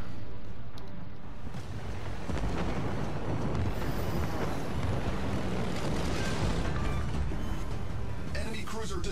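Explosion of a destroyed enemy cruiser in the naval game World of Warships, a dense continuous roar and rumble of blasts and gunfire filling the whole stretch, loud and sustained with a brighter crackle near the end.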